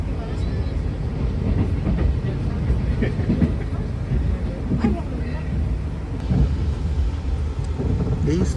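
A direct train rumbles steadily through Bekasi station without stopping, a low continuous roar with faint rattling, while someone talks over it.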